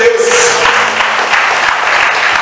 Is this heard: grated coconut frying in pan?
no